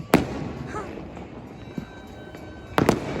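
Firecrackers burst during Uttarayan kite-festival celebrations, two sharp, loud cracks about two and a half seconds apart over a quiet background murmur.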